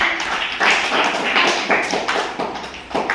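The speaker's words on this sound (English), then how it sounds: "Clap your hands" Children clap their hands in a classroom during a parts-of-speech activity, a quick run of sharp, close claps repeating in an uneven rhythm for a few seconds.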